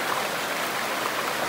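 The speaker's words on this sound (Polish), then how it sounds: "w odległości 10 metrów mam ten kolejny wielki wodospad" A large waterfall on a Peak District stream gives a constant, even rush of falling water, a steady broadband hiss with no breaks and no voices.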